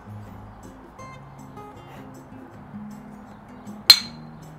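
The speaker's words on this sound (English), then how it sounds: "Clink." Glasses clinking together in a single bright, sharp toast near the end, preceded by quiet low voices murmuring in the background.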